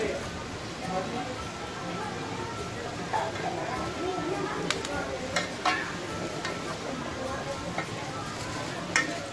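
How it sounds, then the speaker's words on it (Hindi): Red chilli masala, about two tablespoons of red chilli powder, being fried and stirred in a pot, with a steady sizzle, scraping stirs and occasional clinks of a spoon against the pot under continuous talking. "ये हमने इसके डाल के इसको भून रहे हैं, मिक्स कर रहे हैं।"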